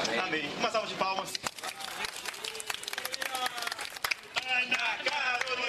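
A live crowd at a show in Brazil applauds, with dense, crackling clapping that rises and falls, mixed with cheers and voices.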